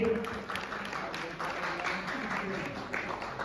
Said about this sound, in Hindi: सिंधी माता को हम जोरदार ताली से स्वागत करेंगे।